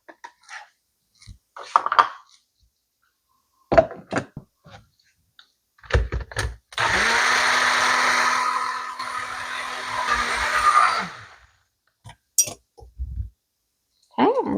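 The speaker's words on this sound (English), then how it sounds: "It's easier for the blender." A kitchen blender runs steadily for about four seconds, blending sausage soup with broth and fire-roasted tomatoes, bracketed by scattered clinks and knocks of pots and utensils.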